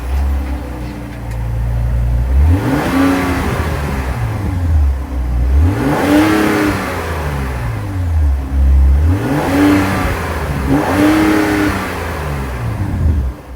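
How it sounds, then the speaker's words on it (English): A 2025 Ram 1500 Laramie's regular-output 3-liter Hurricane twin-turbo straight-six, heard up close through dual exhaust tips, revs repeatedly over a steady idle, rising and falling in about four loud swells with no talk. "that was the sound of the 3-liter Hurricane Twin Turbo Straight 6"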